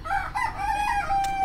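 A rooster crows once nearby, a loud drawn-out cock-a-doodle-doo lasting the whole moment, with faint background noise and no talking over it.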